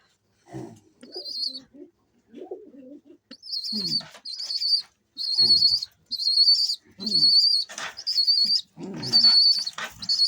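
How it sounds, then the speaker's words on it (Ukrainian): A pigeon squab gives repeated high, insistent begging squeaks in rhythmic bursts, mixed with soft cooing and wing flutters close by. "голубка саме годує голубеня. Як воно просить."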